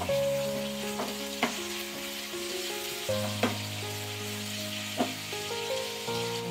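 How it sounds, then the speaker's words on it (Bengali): Cashews and raisins frying lightly in a pan while being stirred, giving a steady close sizzle with occasional scraping knocks over a sustained tonal drone. "কাজু বাদামটা কিশমিশটা হালকা একটু ভাজা করে নিয়েছি"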